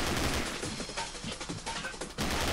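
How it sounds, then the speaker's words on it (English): An M134 minigun fires in the video game Fallout 4, a dense, continuous roar of rapid rounds running loud throughout with brief shifts in texture before a renewed burst near the end. "Oh yeah, it's an M134 minigun."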